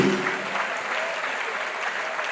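Church congregation applauding during a Sunday morning worship service, a steady dense wash of clapping that holds at an even level throughout without pauses.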